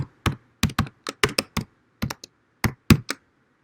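Someone types a short phrase on a computer keyboard, producing about a dozen crisp, close key clicks in an uneven rhythm with brief gaps between bursts. There is no speech.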